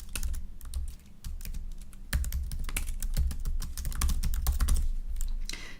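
Fingers type on a computer keyboard in a quick, uneven patter of close key clicks that runs steadily without a pause.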